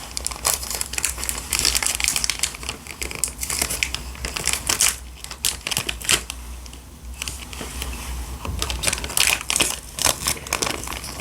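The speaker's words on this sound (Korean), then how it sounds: "비닐봉투에 넣어야겠죠?" A plastic bag is crumpled and crinkled close up in a quiet room, with dense crackling bursts that rise and fall across the whole stretch as it is handled and closed during a doctor roleplay for a COVID test.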